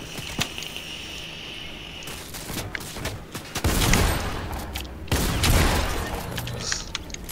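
Gunfire in the Fortnite video game, Season 7: rapid game shots and booming bursts crowd the mix, loudest in two dense volleys near the middle and end, with sharp single cracks between.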